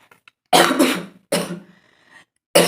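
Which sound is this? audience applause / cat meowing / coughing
coughing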